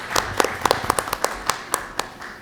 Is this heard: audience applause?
yes